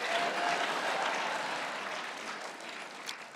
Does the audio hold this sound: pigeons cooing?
no